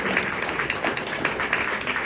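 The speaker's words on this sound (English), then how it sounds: "I think we need to give him a big round of applause" A meeting audience gives a guest speaker a round of applause, dense, even clapping at moderate volume throughout, with no voices over it.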